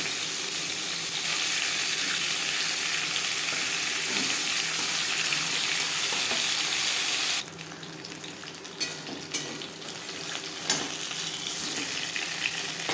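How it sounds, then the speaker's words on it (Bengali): Fish sizzles steadily in hot oil, a dense, close crackling hiss that drops slightly in level partway through, with a few sharper pops afterward. "মাছ আমি হালকা করেই ভেজে নিলাম"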